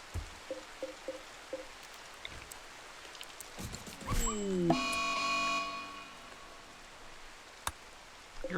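A dog in the video game Rimworld gives short yelps and whimpers as it is attacked, with scattered rustling and game effects and a brief burst of louder tonal sound partway through.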